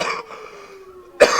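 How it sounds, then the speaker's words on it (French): A man coughs during a wrestling match commentary, one rough cough at the start, then a pause with a faint hum, and another sharp cough at the end, close and fairly loud. "Je vais tousser."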